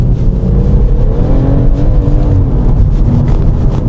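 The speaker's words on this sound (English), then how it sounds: "you can actually hear the wheels spinning now when it's losing traction" A BMW M140i fitted with a Wavetrac limited-slip differential growls under throttle as its wheels spin and lose traction, a close, steady engine drone with wavering pitch lasting a few seconds.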